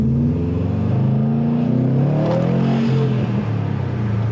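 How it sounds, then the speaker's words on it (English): Intake noise of a 2019 Subaru STI with a Maperformance Stage 2 tune as it accelerates, a loud, close, rising engine drone with a whooshing surge partway through. "I'll put this window down a tiny bit so you guys can hear the intake. Because the intake sounds"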